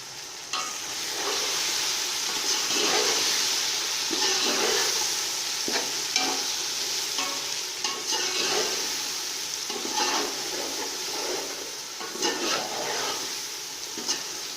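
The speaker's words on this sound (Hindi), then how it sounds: "और साथ ही बिरयानी मसाला डालेंगे। अब इन्हें अच्छी तरीके मिक्स करेंगे।" Biryani masala stirred and fried in a pan while making aloo pulao, giving a steady close sizzle broken by repeated scraping and clinking strokes of the spoon, with no voices.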